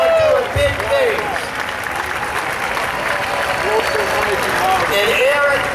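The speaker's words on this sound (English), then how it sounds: "Can we give Eric another round of applause?" A large crowd applauds loudly and continuously at the inauguration of the Los Angeles mayor, with cheers and whistles rising over the steady clapping throughout.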